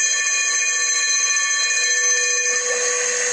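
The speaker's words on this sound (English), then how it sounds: "I've shut off the sort of like bell alarm" A commercial building's bell-type alarm rings continuously at steady loudness, a dense, sustained metallic ringing with no pauses and no voices.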